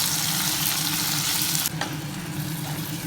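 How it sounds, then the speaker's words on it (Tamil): Tomatoes with salt sauté in a pan for Thanjavur puli kuzhambu, giving a loud, dense, continuous sizzle close by, with a brief stirring scrape partway through. "உப்பு போட்டு நல்லா வதங்குற வரைக்கும் வதக்கணும்"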